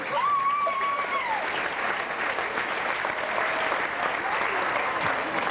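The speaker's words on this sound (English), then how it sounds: "How about a nice round of applause for both players?" Crowd applause at the Sea Arama dolphin show in 1989, a sustained, steady clapping wash over several seconds from an outdoor audience, with a faint whistle-like tone early on.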